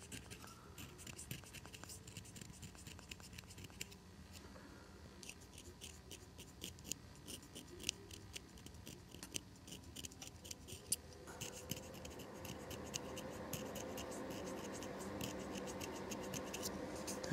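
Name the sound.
scraping the corners of an oboe reed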